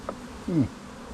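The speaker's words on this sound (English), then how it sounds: "Decent amount of bees." A close bee buzz swells briefly and fades, a single drone passing near over a quiet outdoor background during a bee removal from a couch.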